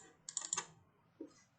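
A short run of computer keyboard keystrokes, a quick close cluster of a few taps followed by one more soft press, quiet and with no talk.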